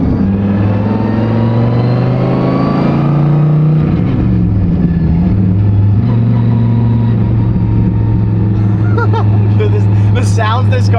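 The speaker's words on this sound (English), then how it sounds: "The sounds this car makes" A sports car engine rumbles and revs loudly up close, with a deep sustained drone and a pitch swell partway through, voices faint underneath.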